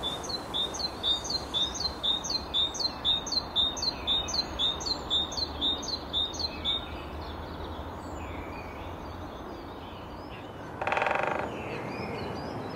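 Wild birds in a dawn chorus, with a rapid repeated two-note song phrase sung over and over in a steady rhythm, then fading, followed by a brief louder call near the end against a faint background hum.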